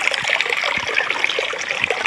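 Running water flows and trickles steadily through a village irrigation channel nearby, a bright, continuous babbling with small splashes.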